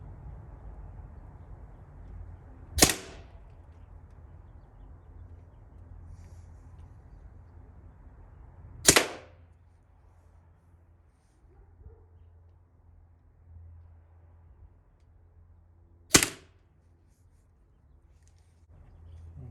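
Less-lethal launcher firing 5-gram riot balls at a 25 lb pumpkin: three sharp, loud shots spaced several seconds apart over a quiet background.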